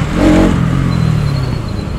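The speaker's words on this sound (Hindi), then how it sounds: "भाई साउंड चेक कर रहे हो बाइक का" A motorbike engine revs up loudly and close, surging in a brief rising burst before it settles into a steady throaty idle.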